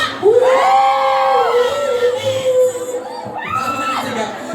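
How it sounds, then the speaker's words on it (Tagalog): A crowd at a live show shouts together in one loud, sustained collective yell, with high voices rising and falling, then a second swell of shouting near the end. "Sumigaw lahat maganda!"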